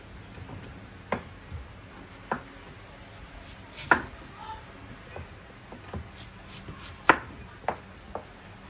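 A knife chops onions for onion rings on a board, giving scattered sharp thuds at an irregular pace, fairly close but quiet, over a low room background.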